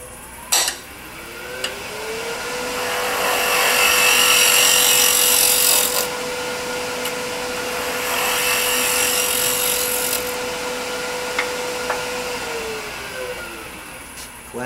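A woodturning lathe hums at a steady pitch that ramps up and then winds down, while a tool takes a skim cut on a segmented wood piece, giving a close, swelling scraping hiss, with no talk.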